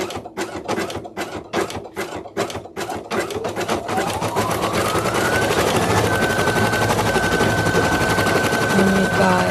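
An embroidery machine stitches zebra stripes onto a felt mask, starting with a series of sharp, evenly spaced bursts, then settling into a continuous rapid needle chatter with a rising motor whine, loud and close.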